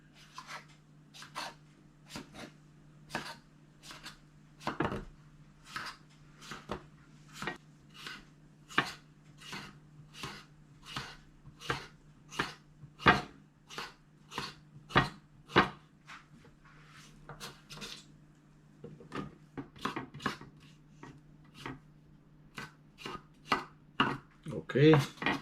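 A knife chops cucumber at an angle on a cutting board in a quick, steady run of crisp knocks, close and fairly quiet, with a low hum underneath.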